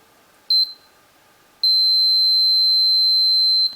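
A multimeter on continuity test gives a short high beep, then a long steady tone once a screwdriver's metal shank closes the circuit, loud and close with no talk.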